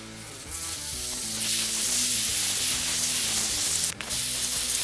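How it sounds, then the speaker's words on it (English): A torch flame hisses steadily across a new Blackstone griddle being seasoned, a loud rushing roar that holds constant with one brief dip, with a low humming tone underneath. "You want to fire this up, run that flame along all those corners and those hard to reach areas"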